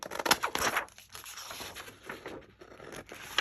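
Scissors cut through a paper lunch bag for a craft page, making close, crackly snipping and crinkling paper sounds that are busiest at the start and thin out into softer rustles, with no speech.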